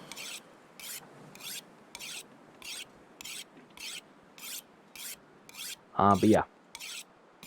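Tools are sharpened in The Long Dark, a dry rhythmic rasping of blade on whetstone repeated about a dozen times at an even pace, with a brief spoken word near the end.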